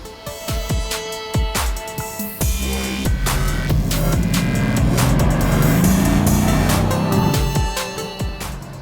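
Mercedes-AMG GLC63s Coupé driven along a small road in Antibes, France: engine note rising and falling through gear changes and acceleration, loud and close, with no talking.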